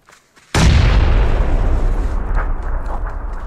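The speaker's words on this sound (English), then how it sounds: "Just throwing a nade and let these guys know we know they're there." A single heavy grenade blast in the shooter game PUBG, a sudden booming detonation after near silence, followed by a long rumbling decay of debris and echo.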